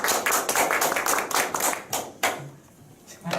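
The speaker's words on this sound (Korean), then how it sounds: "큰 박수 부탁드립니다." Lecture audience claps together in a burst of applause that fades out after about two seconds, leaving a quiet room.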